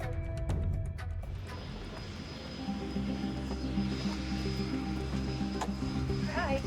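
A float plane flies overhead near Vancouver, its steady propeller engine drone rising and holding as a continuous, moderately loud hum for several seconds.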